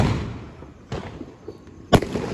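New Year firecrackers bursting outdoors in the morning: two sharp, loud bangs about a second apart, each with a short echoing tail, and a fainter crackle before them, no one talking.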